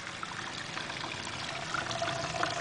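Water pours and trickles steadily into a basin as it drains during an equator water experiment north of the line, a continuous close splashing stream without speech.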